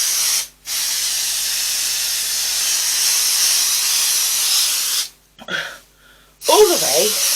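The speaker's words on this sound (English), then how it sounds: "I need to spray this batting." Spray basting adhesive hissing from a can onto quilt batting, two long close bursts separated by a brief pause, then a few short spurts, with a voice briefly at the end.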